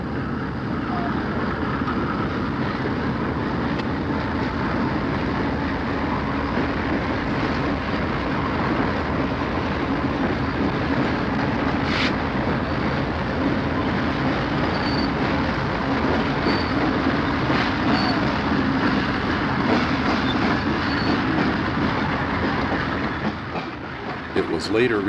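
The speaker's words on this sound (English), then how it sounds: "The 6520 on the point is a General Electric 1966 built ex-Pennsylvania Railroad U28C, still wearing its old number," A 1966 General Electric U28C diesel locomotive, ex-Pennsylvania Railroad and in Conrail blue, leads a Conrail train past at close range, a steady loud rumble with wheel clatter and faint squeals throughout, easing off only at the very end.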